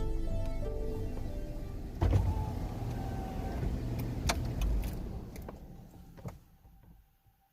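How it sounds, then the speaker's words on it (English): Car sounds nearby on a quiet road at night: a motor whirs and rumbles, several sharp clicks and knocks punctuate it, and the noise fades toward quiet at the end. "I think that was my car."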